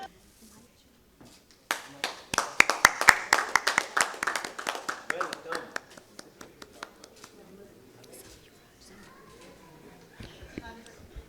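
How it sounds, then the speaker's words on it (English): People at a Mumbai Heroes cricket team press conference clap together. A scattered, irregular round of hand claps swells, then thins out to a few sporadic claps, with talking underneath. "So let's clap together."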